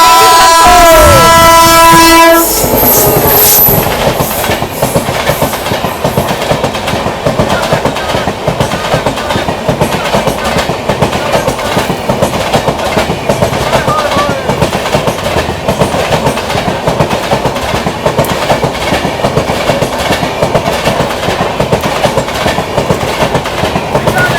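The Sealdah–Bikaner AC Duronto express rushes past close by near Dadri, its continuous horn blaring at the start before a steady, loud rumble and rhythmic wheel clatter carry on throughout.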